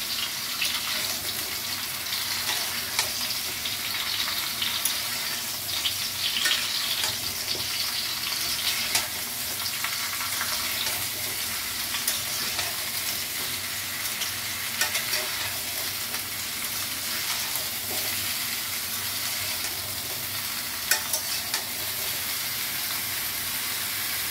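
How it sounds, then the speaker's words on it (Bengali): Mango pieces for sweet mango kasundi pickle are stirred in a hot pan, a steady sizzle with continuous scraping and clinks of the spoon throughout, close and fairly loud with no voices. "আমটা একটু নেড়ে নিই, তারপর চিনি দেবো।"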